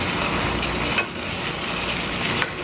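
Potato and cabbage frying in a pan with chopped ginger, stirred steadily over a continuous sizzle, with a couple of sharper scraping strokes.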